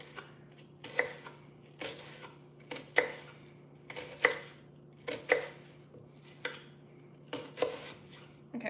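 An onion is cut with a knife on a board: seven or eight crisp, evenly spaced chops over a low steady hum, close and fairly loud, with no talking.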